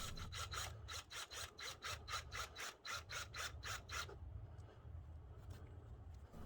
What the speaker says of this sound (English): So with our drill bit and drill, let's make a hole.